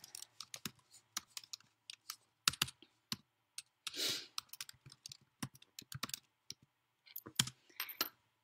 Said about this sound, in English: I'll type that in here for you